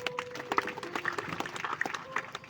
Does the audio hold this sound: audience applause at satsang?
yes